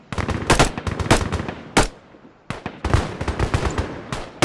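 Bursts of rapid automatic gunfire from a video game crackle loudly, broken by short pauses, with no talking.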